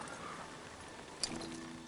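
Horses' hooves clip-clopping at a slow walk in a Game of Thrones video game, soft and steady against a faint background hum.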